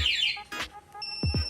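A Yamaha Sniper 155 motorcycle's anti-theft alarm remote gives short electronic beeps and chirps, a quick sequence of tones with a sharper double blip at the end, close by.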